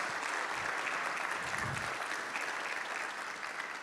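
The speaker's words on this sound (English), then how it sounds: "give him a round of applause" A church congregation at a Sunday service claps in a round of applause for someone receiving a gift and a Bible, a soft, even wash of many hands heard from a distance, with no talking.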